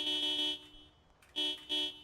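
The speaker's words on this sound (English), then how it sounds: "right now I'm honking the horn" A vehicle horn honks in the video game Project Zomboid, sounding as one long blare followed by two shorter toots after a brief pause, loud and close.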